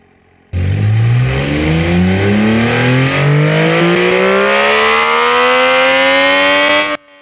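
A very light car in BeamNG Drive makes a hill start, its engine note sharply rising and climbing steadily in pitch as it revs and accelerates uphill for several seconds, loud and alone.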